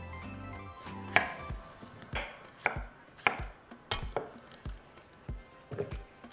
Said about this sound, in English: I'm just going to chop it into smaller pieces